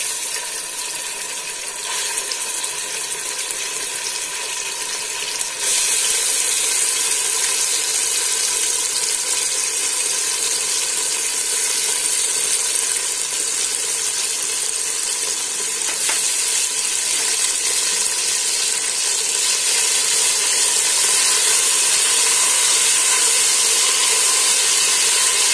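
Ginger garlic paste sizzles in a hot pan while Hyderabadi bagara rice is being cooked, giving a loud, steady, bright hiss that carries on without break and grows slightly more intense partway through.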